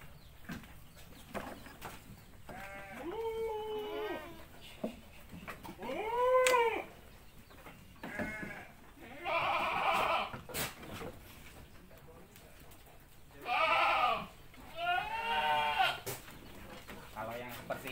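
Goats on a farm, mostly black and white with a red-headed female among them, bleat in repeated wavering calls from several animals, some close and loud, with quieter stretches between.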